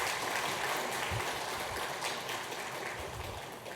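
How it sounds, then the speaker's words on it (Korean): A church congregation gives a round of applause during a Sunday worship service, a soft, continuous rush of many hands clapping at a distance, slowly fading toward the end. "수료증과 선물을 드릴 때 큰 박수로 환영해 주시기 바라겠습니다."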